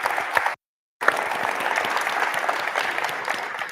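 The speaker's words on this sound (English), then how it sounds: "Maybe a round of applause." Conference attendees in a large hall give a warm, sustained round of applause, interrupted by a brief dropout near the start before the clapping carries on evenly.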